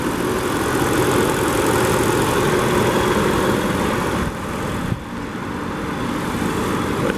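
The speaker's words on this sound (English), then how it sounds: "And this engine drives and runs and idles so smooth." A 1998 Cadillac Seville SLS V8 engine idles with a steady, low rumble throughout, briefly dipping and thumping once before settling back to its even hum.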